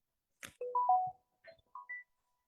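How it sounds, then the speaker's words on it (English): An alarm gives a short run of electronic beeps and tones at varied pitches, clear and alone against silence, sounding during a rabbi's talk. "Alarm. This is the alarm."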